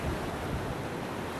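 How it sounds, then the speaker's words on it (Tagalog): Strong river current rushes at a river mouth fed by mountain water, a loud, steady broadband roar of churning flow with no pauses, close by and alone. "lakas ng agos"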